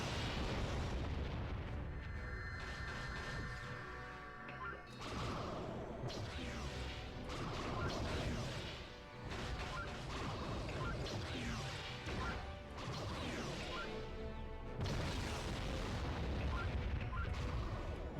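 Photon torpedoes and explosions in the 2006 PS2 game Star Trek Encounters: repeated loud crashing blasts and booming impacts in quick succession, over a continuous dense roar of space combat.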